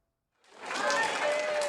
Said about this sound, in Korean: 오세훈 서울시장이 국회 지방분권 개헌 토론회장에 입장하자 박수와 환호가 쏟아집니다